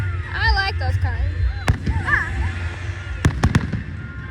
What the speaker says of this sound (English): So we're watching the fireworks.